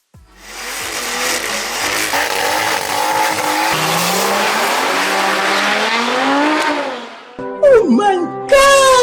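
A daily-driven B58 street car built to run nine-second passes accelerates hard, its loud engine note rising continuously for several seconds before easing off, followed by excited voices shouting close by.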